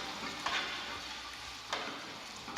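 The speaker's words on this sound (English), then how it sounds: "Keep stirring." Chicken korma sizzling and frying in a pan as curd is stirred in, a steady hissing crackle with a few distinct scraping stir strokes of the spoon at intervals.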